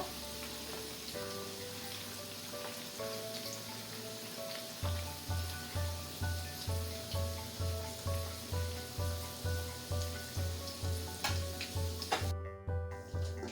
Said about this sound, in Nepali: अब यो चिकनलाई चाहिँ हल्का रातो र क्रिस्पी हुने बेलासम्म फ्राई गर्नुपर्छ।